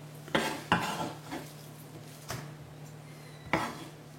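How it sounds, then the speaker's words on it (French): Finely chopped beef for a tartare is scraped out into a salad bowl: several sharp clinks and knocks of a utensil against dishes, spaced irregularly, close and fairly quiet. "on va récupérer le hachis dans un saladier"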